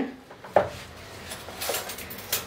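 Amra (hog plum) pickle being stirred in a pan, with a few soft scrapes and light clinks of a utensil against the metal, spaced irregularly and close by, with no talk.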